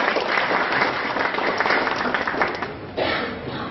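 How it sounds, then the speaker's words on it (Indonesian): An audience bursts into sustained applause, with many hands clapping steadily and fairly close. There is a brief surge near the end. "Aplaus dulu dong buat Pak Nur Khalid."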